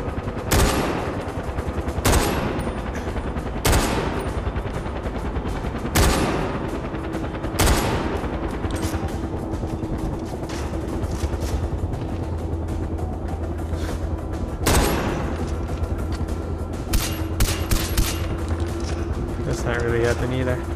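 Vehicle-mounted guns fire in Far Cry 4 during a fortress fight, with loud sharp bursts and single shots cracking at irregular intervals over a steady rumble of game noise.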